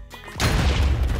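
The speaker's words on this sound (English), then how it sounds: "If the TNT explosion happens that fast, we are in some serious trouble" A TNT block explodes in Minecraft, a sudden loud boom that follows a short quiet lead-in and then rolls on as a dense, sustained rumble.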